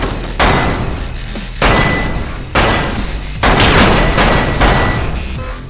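Five loud, close gunshots in the Lethal VR video game quick draw shooting, each a sharp blast with a short decaying tail, spaced irregularly about a second apart.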